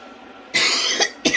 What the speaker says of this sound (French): c'est vraiment chiant de tousser comme ça